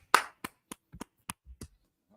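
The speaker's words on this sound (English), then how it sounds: "Clap it up." A few people clap in sparse, uneven bursts at a religious class gathering, about seven separate claps spread over two seconds, close and fairly quiet with no talk.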